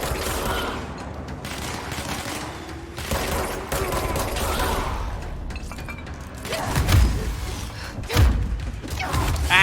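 Video game Control combat: steady bursts of gunfire and heavy thumping grenade blasts, dense and loud throughout, with deeper booms near the end.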